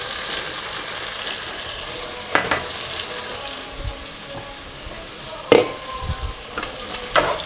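Beef bones sizzle and fry in a pot of turmeric-spiced Persian spinach stew, a steady crackle with a few louder pops and clinks of stirring, close by and without talk.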